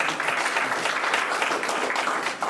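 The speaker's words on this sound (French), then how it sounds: "Je pense qu'ils méritent quand même qu'on les applaudisse pour ces efforts." Applause from an audience at a political gathering in the DRC, moderate and somewhat distant, a steady wash of clapping lasting a couple of seconds.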